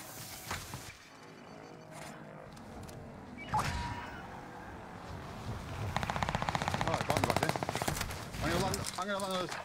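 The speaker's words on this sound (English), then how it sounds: "I'm getting shot by everyone, bro." Video game gunfire in a busy online shooter match, with scattered shots early and a sustained rapid automatic burst later, fairly quiet under the mix.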